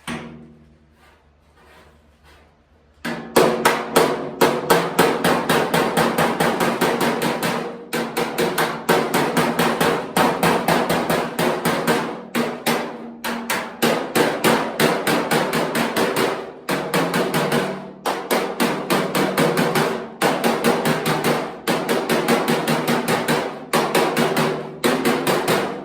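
Hammer and dolly shaping sheet metal on a 1963 Pontiac fender: a steady stream of sharp, ringing metallic blows at a quick, even rhythm, close and loud, starting after a brief quiet moment.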